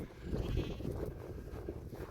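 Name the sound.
sheep bleating in a field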